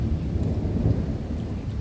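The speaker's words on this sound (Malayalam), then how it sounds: "ശക്തമായ മഴ ആരംഭിച്ചു" Heavy rain pours steadily in Ajman during the 2024 floods, a dense constant wash of drops over a deep low rumble of thunder, with no voices.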